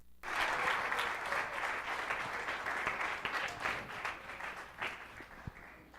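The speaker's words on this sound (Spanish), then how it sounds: "Dele un aplauso al Rey" Church congregation applauding together, a dense, steady wash of clapping that starts abruptly and holds strong for several seconds before thinning slightly toward the end, with no voices over it.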